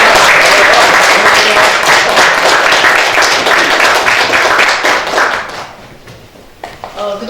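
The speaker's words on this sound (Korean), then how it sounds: "두 분을 위한 힘찬 박수를" A crowd applauds at a Justice Party (정의당) political event with sustained, loud, dense clapping that thins out and fades after about five seconds, leaving faint scattered claps and room noise.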